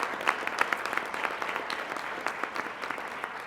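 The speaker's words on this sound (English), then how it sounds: "One big round of applause for all of them." Audience applause at a state PTA convention award session, steady dense clapping from a crowd throughout, moderately loud with no talking over it.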